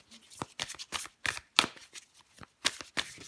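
Tarot cards being shuffled and handled in short bursts of crisp riffling and flicking, close and fairly quiet, with brief pauses between the bursts and no talking.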